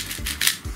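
QiYi WuQue Mini 4x4 puzzle cube being turned by hand, a couple of quick plastic clicks and rasping turns, close and fairly quiet, with no talking.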